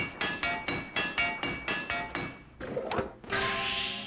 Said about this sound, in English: Hit wooden hammer with wooden hammer, make metal tinking sounds.